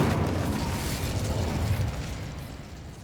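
An Incendio fire spell cast in Hogwarts Legacy gives a loud, rushing, roaring burst of flame that starts strong and slowly fades over about three seconds, with no talking.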